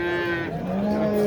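A cow at a livestock market in Boysun, Surxondaryo, gives a loud, close, sustained moo with steady tonal lowing from start to finish.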